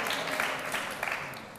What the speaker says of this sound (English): Can we have another round of applause for our education candidates